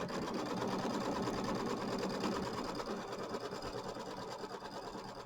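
An embroidery machine stitches a fabric tack-down line on a mini quilt, a fast, even mechanical chatter of the needle running close and steady throughout.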